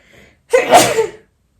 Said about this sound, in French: Je vais éternuer, je suis désolée.